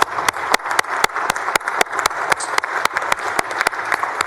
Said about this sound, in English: would ask my my colleagues to stand and give a round of applause to Mount Zion